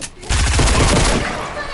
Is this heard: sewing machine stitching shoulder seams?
no